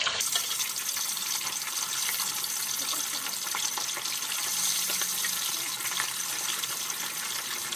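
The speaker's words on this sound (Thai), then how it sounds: "เดี๋ยวเราก็จะนำไปทอดนะคะ" Chicken frying in a pan for an easy Thai fried-chicken dish gives a steady, dense hiss and sizzle with scattered crackles that holds at an even level throughout, with no talking.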